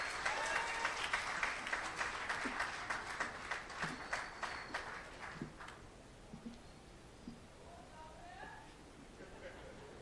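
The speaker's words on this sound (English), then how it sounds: "can we give a round of applause for MP Dominic Romain, Member of Parliament for Malabar Mausika." An audience at a political party town hall meeting applauds, with dense clapping that starts strong, thins out into scattered claps, and fades away.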